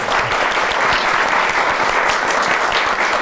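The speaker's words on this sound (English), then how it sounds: "please thank me in celebrating and applauding our guests." Audience applauding guests at a food festival talk, a dense, loud burst of clapping that fills the whole moment with no voices standing out.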